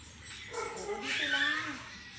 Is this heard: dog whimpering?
yes